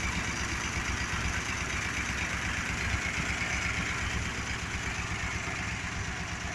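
A 1965 Dodge D200 pickup truck's engine, rated at 200 horsepower, idles steadily and close by, a continuous even rumble with no voices over it.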